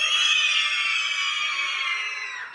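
A crowd of schoolchildren yelling together at full volume, a loud and sustained burst of high voices that stays steady for a couple of seconds before tapering slightly at the end.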